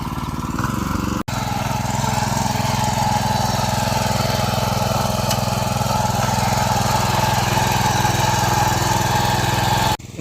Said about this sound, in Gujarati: મિની ટ્રેક્ટર દર 15 દાડો આમ ખેડ મારીને નીકળી જાય